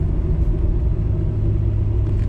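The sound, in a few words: Chevrolet LS V8 engine running with faint exhaust header tick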